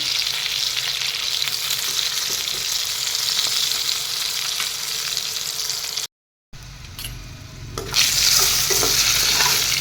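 Eggplant pieces frying in a pan, with a dense steady sizzle and occasional stirring, cut by a brief silent gap before the sizzling resumes, louder and brighter.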